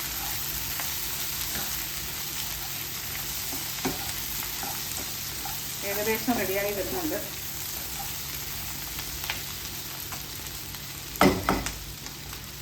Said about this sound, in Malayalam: നമുക്ക് ഈ പാവയ്ക്ക ഇടയ്ക്കിടയ്ക്ക് ഇങ്ങനെ ഇളക്കി കൊടുത്തുകൊണ്ടിരിക്കണം